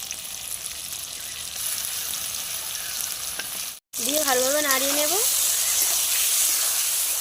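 Pumpkin pieces sizzle steadily in a pan after mustard-poppy paste is added for a bhangor fish curry, a loud continuous hiss that cuts out for a moment before resuming, with a voice heard over the second half.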